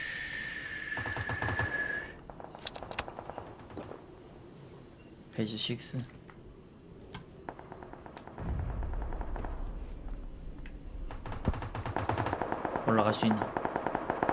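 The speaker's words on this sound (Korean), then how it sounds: "왼쪽에 총소리 있는데 왼쪽에." Bursts of automatic gunfire and single shots from PUBG on the Vikendi map crack out repeatedly at varying distances, some close and sharp, others distant, while players talk over the game sounds.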